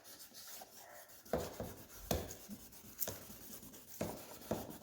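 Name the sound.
wet sanding pads on Subaru headlight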